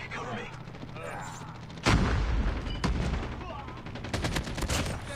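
AK47 gunfire in Call of Duty Mobile: a loud sharp burst lands near two seconds, then further rapid shots and a quick volley toward the end over a muffled game background.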